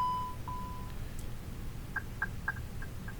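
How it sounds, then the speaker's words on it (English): Short electronic tones play, then a quick series of high beeps repeats evenly over a low background hum, from an A320 flight simulator aircraft system startup. "Those are those 3 beeps we're looking for."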